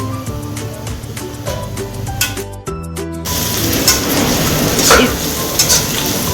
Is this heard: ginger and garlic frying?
yes